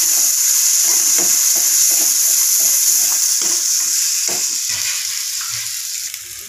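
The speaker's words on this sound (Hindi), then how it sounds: "अब इसमें धनिया पाउडर डालेंगे और टमाटर सॉस। इसे अच्छे से भून लें।" Paneer masala with coriander powder and tomato sauce frying hard in a pan, a loud, steady sizzle with stirring scrapes over it, easing off slightly toward the end.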